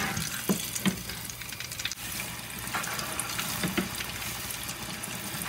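Fish balls frying in oil over just above medium heat, a steady close sizzle and bubbling with a few soft clicks and knocks, no talk.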